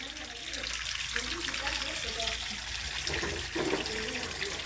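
Water floods and overflows in a steady, gushing pour, like a tap or tub running over, with people talking faintly beneath the flow.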